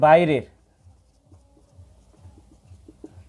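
A pen scratches lightly on paper in quick, faint, irregular strokes after a brief burst of speech, close and quiet.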